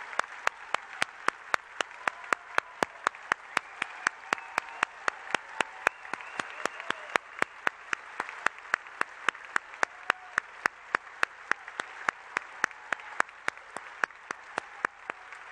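Applause from an audience of writers at a literary gala, a steady wash of clapping in a large room with one sharp, close clap repeating at a regular rhythm over the top, continuing throughout.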